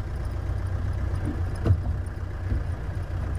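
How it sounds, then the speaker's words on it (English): A diesel safari vehicle runs with a steady low engine rumble heard from inside or nearby, even and continuous, with a single brief knock partway through. "they could hear this tractor noise coming because it's diesel"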